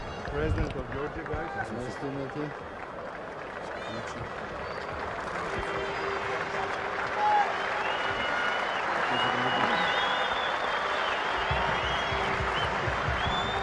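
Broad stadium crowd noise with applause at a Georgia versus Tonga rugby match, a steady dense roar holding across the whole stretch, with a commentator's voice faintly underneath.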